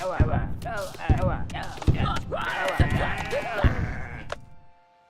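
Sheep bleat in a city-battle strategy video game, several short wavering cries over thumps and game effects, with people talking over them.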